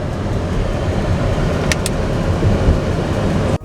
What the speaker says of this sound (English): look at all this traffic